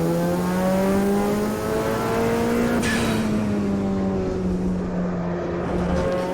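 Race car lapping in a sim racing game, a loud continuous engine drone whose pitch climbs and falls through the gears, close and steady with a brief downshift dip midway.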